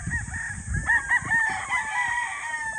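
A rooster crows once, fairly faint and distant, its drawn-out call rising and falling over outdoor background noise, with no voices.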